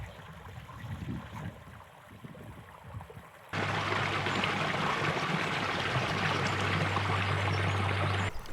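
A stream flowing across a ford on Exmoor, first a softer gurgle, then a sudden swell into a loud, steady broadband rush of running water close by.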